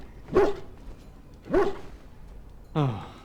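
Two sharp, close barks from a dog in Dragon Age: Origins, spaced about a second apart, followed by a short whining yelp.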